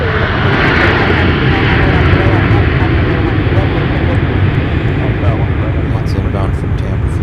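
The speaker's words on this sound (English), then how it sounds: "Here's our next arrival, another 757-300." Delta Boeing 757-300 jet arriving at Minneapolis airport from Tampa in winter, a loud, sustained engine roar filling the whole stretch with a faint talking voice underneath.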